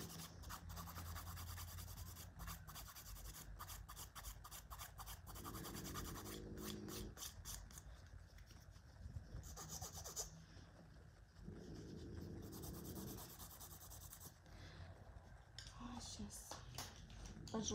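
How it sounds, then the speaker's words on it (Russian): A 100/180 grit nail file rasps against gel nail tips in a manicure, giving steady rhythmic back-and-forth strokes close up, with pauses between sets of strokes. "пожестче возьму пилочку."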